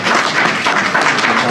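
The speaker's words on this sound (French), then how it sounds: "sous vos applaudissements" Audience at a business event clapping together, giving a dense, continuous wash of applause that is fairly loud and close and lasts the whole brief moment.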